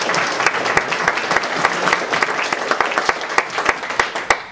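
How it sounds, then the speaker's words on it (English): Applause from an audience at an evening event with catered food, a dense, steady patter of many hands clapping close by, with a few sharper individual claps standing out. "let's have a round of applause for this"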